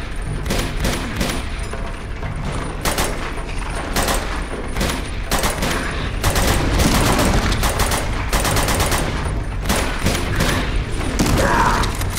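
A heavy exchange of gunfire in Uncharted 2: Among Thieves, with rapid automatic bursts and single shots rattling almost nonstop at close range, loud and dense, with occasional thuds mixed in.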